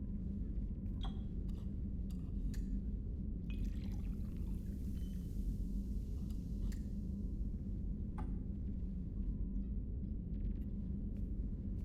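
In Mass Effect 2, liqueur is poured and mixed in a glass, with faint trickles and scattered light clicks and taps over a constant low background hum.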